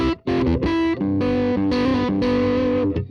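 An electric guitar plays through two doubled amp profiles on a TONEX ONE, slightly out of phase, giving a distorted, woofy, hollow tone in sustained chords broken by brief gaps.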